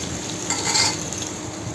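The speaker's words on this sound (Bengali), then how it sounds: "এরপরে পেঁয়াজ আর কাঁচামরিচটা ভালো করে একটু ভুনাবো" Sliced onions and green chillies fry in hot oil with a steady, close sizzle and a brief stirring scrape in the pan; no one speaks.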